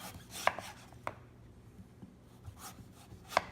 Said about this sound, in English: so I'm just going to cut the skin off there